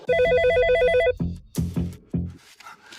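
A telephone in a hospital ward rings with a loud electronic trilling tone for about a second, then thuds and handling noises follow close by.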